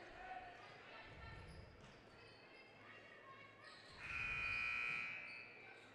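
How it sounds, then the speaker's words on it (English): A buzzer sounds from a neighboring upper basketball court at Franklin during a high school holiday tournament game, a sustained tone rising near the end over court noise, bouncing balls and distant voices. "that buzzer you're hearing is in the background of the upper court here at Franklin"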